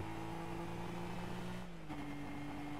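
The Charger's engine in Rocket League holds a steady, close drone that dips slightly in pitch near the end, a continuous hum with no voices over it.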